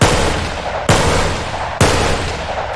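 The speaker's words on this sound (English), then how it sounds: "Actual functional 3-shot burst" Three-shot burst gunfire from a weapon in the VR game Bonelab: three loud, sharp shots evenly spaced just under a second apart, each ringing into a decaying tail, with no talking.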